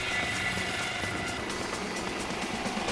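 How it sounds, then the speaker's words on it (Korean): Rescue helicopter of a 119 special aviation team circling over Gwanaksan mountain during a search for a missing hiker, its rotor and engine a steady, loud, continuous drone throughout with no talk. "헬기팀에서도 상공을 돌며 수색에 한창이다."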